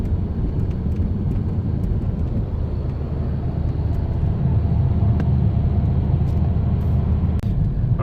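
A Vauxhall Zafira 2.0 CDTi diesel is driven during DPF regeneration, giving a steady, loud interior drone of engine and road rumble that continues unbroken and swells slightly toward the end.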